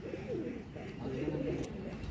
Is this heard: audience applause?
no